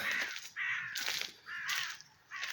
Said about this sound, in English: And a crow or a rook.